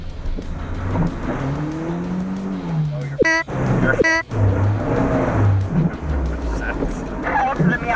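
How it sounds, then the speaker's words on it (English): A lifted Mazda Miata stuck in a giant mud hole off-road in Florida, its engine revving in bursts with sharp rising whines, loud and close, while people talk over it. "So right on cue, the Miata is stuck in a giant mud hole."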